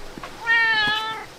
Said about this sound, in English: Oh, a nice cat.